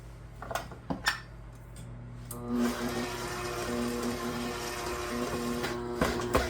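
An electric stand mixer, covered with a towel, churns stiff cookie dough made with flour and salt, giving a steady mechanical whir with a faint rhythmic knock after a few clinks of bowl and utensils at the start.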